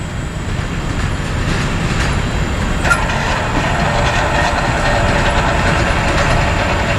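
Norfolk Southern freight train NS 51D rolls past at a junction in Columbia, South Carolina, a loud, steady rumble of railcars with rhythmic clacking and a brief sharp metallic squeal partway through.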